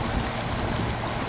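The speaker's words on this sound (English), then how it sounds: "There are cascades on both sides of the rocks." Water cascades over rocks on both sides of a stepped drop into a pool in Pakuranga Creek, a steady, close, full rushing wash without pause.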